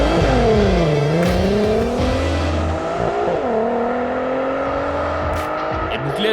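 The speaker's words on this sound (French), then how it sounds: "l'agrément derrière le volant était rehaussé par la mélodie de son moteur VR6" A VW Golf R32 with its VR6 engine revs hard through the gears, with rising pitch sweeps and a shift dip, loud and close throughout, with a narrator speaking faintly underneath.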